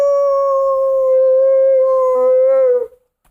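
A single dog lets out a loud, sustained howl that holds one steady pitch, then bends into a wavering, shaky tone before cutting off abruptly, close and alone with no voices.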